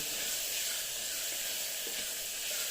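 Sliced onions and a handful of curry leaves sautéing in a pan for beef gravy, a steady close sizzle and hiss running without a break.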